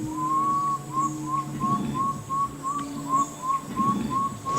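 A man makes a series of short, evenly repeated whistles that imitate a water bird, steady and close by in a quiet jungle river setting, with a faint low hum underneath and no talk.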